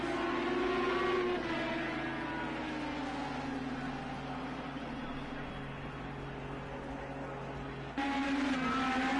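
IndyCar race cars on the Firestone Grand Prix circuit in the Project IndyCar video game, a continuous loud engine drone with shifting pitch as cars run side by side, steady throughout with an abrupt change near the end.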